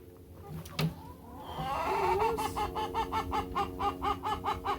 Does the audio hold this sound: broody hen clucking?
yes